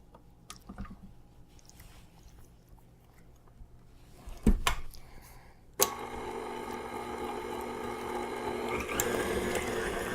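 An electric mixer beats a savory seafood cheesecake filling, crushing added pieces; after a couple of bumps the motor kicks in with a steady, close whir that runs continuously to the end.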